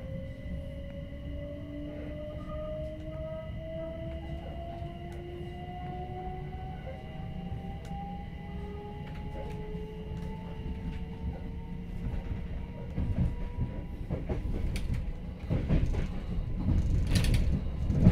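A Southern Class 377 Electrostar electric train rolls on rails with rising motor whine and rhythmic clatter, growing louder with rattling and clunks toward the end.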